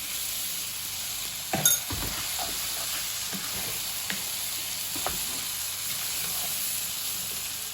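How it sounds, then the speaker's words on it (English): Rice tipped into a pot of chicken stock for marinated chicken and basmati rice, with a steady close sizzle and a few sharp stirring scrapes and clatters, the loudest near the start, and no talking. "Now add the rice."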